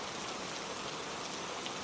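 Steady, dense rainfall hisses evenly on a wet asphalt street at night, a constant soft wash with no voices or pauses.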